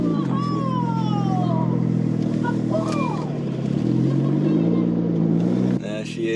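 A 1500 BHP Porsche 992 Turbo S drives on a school run, its engine droning loudly and steadily with pitch shifts as it changes speed, under a voice talking throughout.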